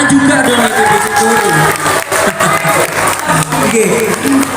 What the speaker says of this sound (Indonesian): Tepuk tangan juga dong itu di situ.